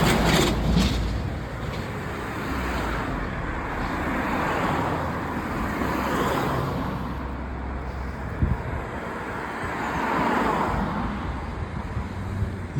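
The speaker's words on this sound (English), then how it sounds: "What a big truck we've got coming towards us." A big truck approaches and rumbles past on a residential UK road, a heavy broadband roar with steady traffic and wind noise that swells as it nears.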